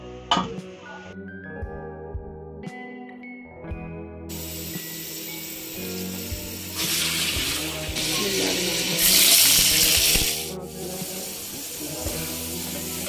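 Water is poured into a pot of mutton for namkeen gosht cooking over a high flame, giving a steady hiss and sizzle that swells and fades over several seconds, close and fairly loud.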